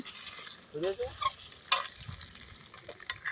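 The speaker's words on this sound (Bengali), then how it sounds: "আলু ভাজা চলছে এখন, কড়া করে আলু ভাজা" Potatoes fry until crisp in a pan at an outdoor picnic, a soft sizzle with stirring scrapes, fairly quiet and uneven, with faint voices nearby.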